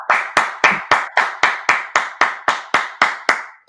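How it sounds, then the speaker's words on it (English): A single person claps about a dozen sharp, evenly spaced times at a steady moderate pace, close and loud, with no talking, during a sports talk show. "Clap it up for them boys."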